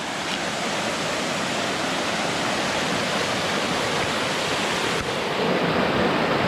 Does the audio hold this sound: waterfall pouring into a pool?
yes